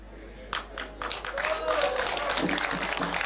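A crowd at a political rally in Chuka, Tharaka Nithi County breaks into applause, a few early claps swelling into sustained clapping and cheering, with a voice over a loudspeaker heard faintly beneath.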